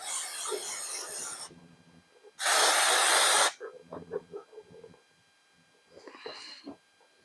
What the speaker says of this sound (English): I love a good aerosol spray